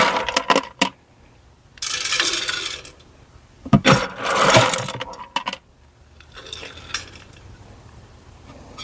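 Hard wood pellets are scooped for a Big Horn pellet pizza oven, giving close, loud bursts of granular rattling and clattering in several separate scoops, with short quieter pauses between them.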